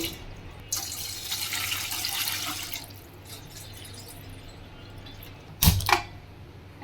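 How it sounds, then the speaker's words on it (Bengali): Water is poured into a pot set on a gas stove, a close splashing rush for a couple of seconds that fades into a quieter hiss, with a sharp clatter near the end. "গ্যাসে একটা পাত্র বসিয়ে দিয়েছি এতে খানিকটা জল ঢেলে নেবো"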